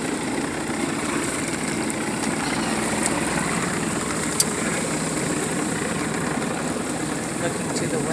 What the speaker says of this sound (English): Sorry for the engine noise.